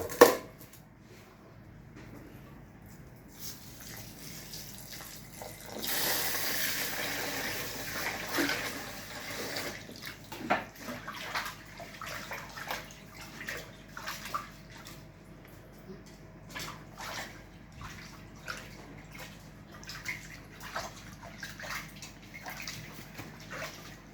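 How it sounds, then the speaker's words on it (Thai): Water running from a tap into a pot while rice is washed for a Thai fried pork dish, a steady gush with a louder surge early on, then drips, splashes and handling clatter, with faint talk in the background. "ล้างข้าวทั้งสองครั้ง"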